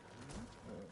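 A bird coos softly in a video game, a short, quiet call over low background ambience.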